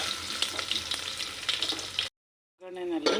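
Mustard seeds, cumin and fenugreek sizzle and crackle loudly in hot oil in a pan for about two seconds, then a brief silence before a fresh burst of sputtering with a faint tonal squeal.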